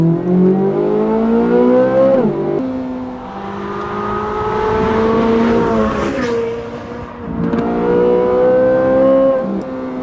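A loud Ferrari 458 sports car engine revs hard and climbs in pitch, drops briefly as it shifts gears, then winds up again, close and continuous.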